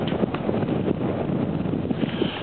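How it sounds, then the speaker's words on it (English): Wind buffets the microphone on an exposed stretch of Nelson Island, a continuous loud rumbling roar with no pauses and no speech. "the wind's blowing and you're trying to hear what's going on as we get further out here, it uh, the wind's picking up because we're more exposed"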